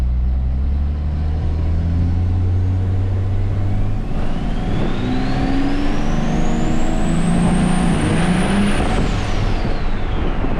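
An engine fitted with a muffler runs steadily at half throttle, a loud, even drone with a high whine that climbs slowly, peaks and then drops near the end.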